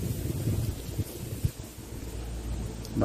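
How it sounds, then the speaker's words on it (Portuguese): Gusty outdoor wind buffets the microphone during a desert rose graft, a steady low rumble with a few sharper thumps and a swell at the end, with no speech over it. "bastante vento aqui."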